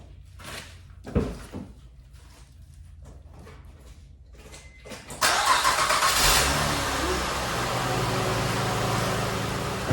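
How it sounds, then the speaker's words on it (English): A 2007 Honda Pilot sits in a garage. A few clunks and knocks come first, then midway the engine cranks and catches with a loud surge and settles into a steady, close idle that runs to the end. "It's time to start the car, guys"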